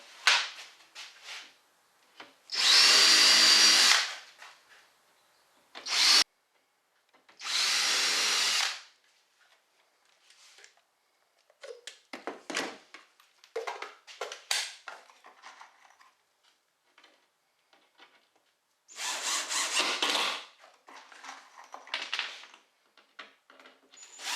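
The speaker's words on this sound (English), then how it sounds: "I'm going to go ahead and countersink some screws just to secure this thing down." A power drill countersinks screws into a wooden board on an outdoor storage box, running in several short whirring bursts with pauses of clattering handling noise between.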